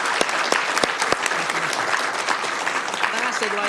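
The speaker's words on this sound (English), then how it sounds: "Let's give also Roxanne a big round of applause." Loud, dense applause from a city council chamber audience honoring a staff member's 20 years of service to the city, with a few sharp nearby claps standing out early.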